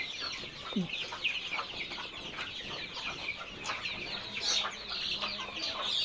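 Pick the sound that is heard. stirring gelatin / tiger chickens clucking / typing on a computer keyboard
tiger chickens clucking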